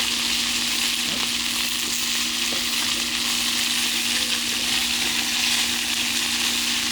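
Beans fry in oil in a paella pan for a Spanish family paella, giving a steady, close, continuous sizzle with no talking.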